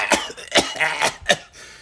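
Four or five sharp, dry coughs in quick succession, close by, with brief pauses between them.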